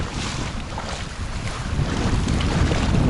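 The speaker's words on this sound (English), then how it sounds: "And it's getting windy." Strong wind roars and buffets the microphone on a beach hike at Balandra Beach near La Paz, Baja California Sur. The rush is loud and constant and grows stronger toward the end, with no voices.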